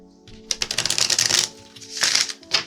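Tarot cards shuffled by hand in a quick burst of dense riffling flicks, a pause, then two shorter bursts, close and crisp with no talk.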